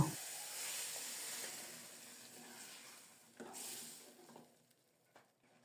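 Spinach tossed into hot mustard oil with crushed garlic gives a steady close sizzle and hiss, easing off midway and then flaring again briefly before fading to near quiet.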